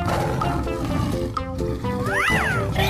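A cartoon tiger in an animated kids' animal game gives a growling roar over continuous tonal music with rising and falling effects.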